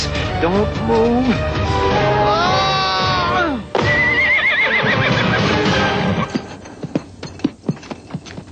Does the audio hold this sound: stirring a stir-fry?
no